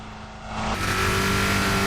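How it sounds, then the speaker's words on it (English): A race car in Rocket League at Daytona Nazionale Speedway revs at full throttle, its engine rising from a lower drone into a loud, sustained high-RPM roar that holds steady to the end. "Let's see for a highest RPM for a full throttle."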